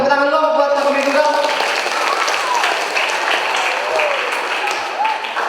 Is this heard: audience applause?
yes